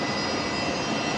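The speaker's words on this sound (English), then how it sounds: "the Max 8 on short final now, not too far away" A Boeing 737 Max 8 on short final at Brisbane Airport at night gives a brief, loud, steady jet engine roar.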